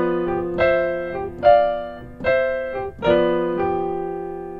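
Jazz piano plays a blues lick moved to G, alternating chords with a repeated top note; about six rich, sustained chord strikes sound alone in a loose, swinging rhythm.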